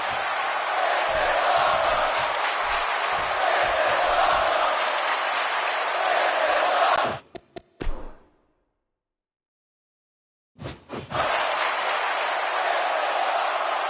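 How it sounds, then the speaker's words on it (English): Arena crowd in the wrestling video game WWE 2K17 during a Smackdown show: a constant roar of cheering that cuts out abruptly to silence partway through, then returns at full strength. "Another electric crowd on hand here for Smackdown, as has been the norm over the years."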